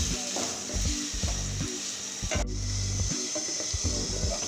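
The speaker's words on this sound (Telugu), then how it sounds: "ఉల్లిపాయలు, పచ్చిమిర్చి బాగా వేపుకుందామండి." Chopped onions and green chillies fry in a pan, a steady hiss of oil with repeated close scraping and stirring strokes and one brief gap in the sizzle.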